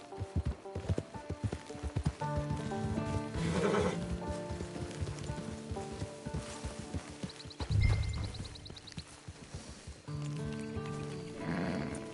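A horse in the video game Red Dead Redemption 2 Online whinnies and snorts amid steady clip-clopping hooves, with game music and effects underneath and a brief loud thump partway through.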